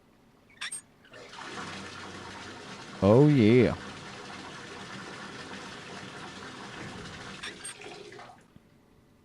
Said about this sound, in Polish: A dobra, najpierw trzeba napuścić wody.